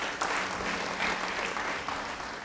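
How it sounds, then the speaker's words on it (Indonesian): A church congregation applauds during a sermon, steady dense clapping from a crowd that fills the whole moment without pause. "Beri tepuk tangan bagi dia."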